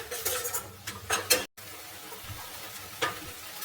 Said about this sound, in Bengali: আদাটাকে দিয়ে আমি এভাবে নাড়াচাড়া করবো